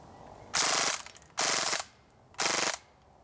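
A WELL G55 gas blowback airsoft pistol fires three short full-auto bursts, each a loud rapid rattle of shots, separated by brief pauses.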